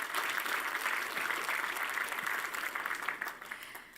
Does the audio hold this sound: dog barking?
no